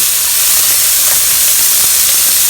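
Scallops frying in oil in a pan, giving a loud, steady, close hissing sizzle that holds unbroken throughout.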